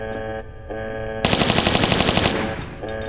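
Rapid automatic Uzi fire in the video game Tomb Raider 3, a loud burst of quick repeated shots over a droning game music background, lasting about a second.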